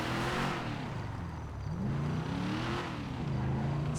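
Car engine revving hard while driving in GTA roleplay on the NoPixel server. The pitch rises and falls in sweeping surges, loud and continuous, with no speech.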